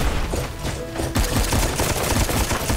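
Rapid machine gun fire in the mobile strategy game Boom Beach, a dense rattling stream of shots and impacts that runs continuously throughout, loud and close.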